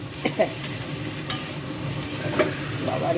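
Onion paste and ginger paste fry with spices in a pan for a paneer curry, giving a low, steady sizzle with a few soft scraping stirs of a spoon, close by and with no talk.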